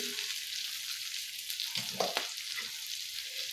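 Green chillies with salt frying in oil in a pan, a continuous close hiss and sizzle with a few stirring clatters partway through.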